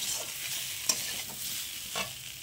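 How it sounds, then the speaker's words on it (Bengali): Potatoes coated in chili powder are stirred in a pan with a soft, steady sizzle, broken by a few faint scraping strokes of the spoon. The sound is quiet and close, with no talking. "তারপর দেব লঙ্কা গুঁড়ো, দিয়ে একটু নাড়াচাড়া করে নিলাম"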